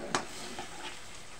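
Tilapia fish steak sizzling in a frying pan as it is flipped, a soft steady hiss with a brief scraping clatter at the turn, fairly quiet and alone.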